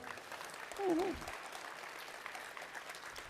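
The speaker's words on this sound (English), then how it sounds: "Give them a round of applause, everyone." Audience at a FIRST Robotics qualifier event applauds for mentors and coaches, a steady wash of clapping in a large hall, with a brief voice over it early on.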